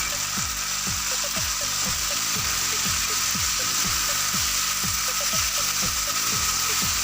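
Okra is stirred quickly while frying in a pan with spices and salt, making a regular, rapid series of scraping strokes over a constant sizzle.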